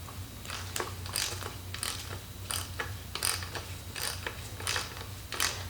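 Hand tools working on a gearbox during disassembly: a quick series of close ratcheting clicks in short bursts, about a dozen, over a low background hum, with no talk.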